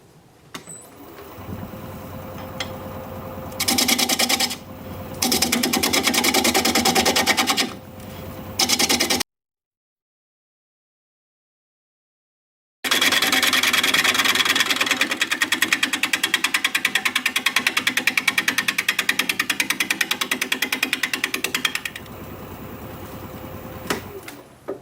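Spalted sycamore turning on a wood lathe as a tapering cut goes in, a steady scraping, whirring hiss in long bursts that breaks off into silence for a few seconds and then runs again strongly.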